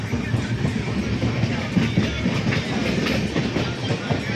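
A moving passenger train rumbles along the rails on the way to Mysore, with a steady rolling roar and rhythmic clickety-clack from inside the carriage.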